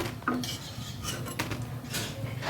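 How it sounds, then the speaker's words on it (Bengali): Metal utensils scrape and clink against a frying pan as fried onion fritters (peyaju) are lifted out of the hot oil, a few close, sharp scrapes over a faint sizzle. "এখন আমি নামিয়ে ফেলছি এইভাবে আমি প্রত্যেকটা পেঁয়াজও ভাজু করে নেব"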